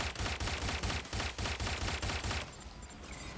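Rapid bursts of automatic gunfire in the Watch Dogs Legion video game, loud and close, a fast repeating string of shots that cuts off partway, leaving quieter game ambience.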